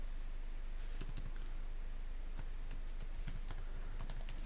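Quiet computer keyboard typing comes in short irregular bursts of light clicks, close up, with no speech.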